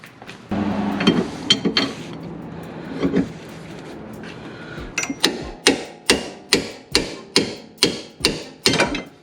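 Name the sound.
hammer knocking axle out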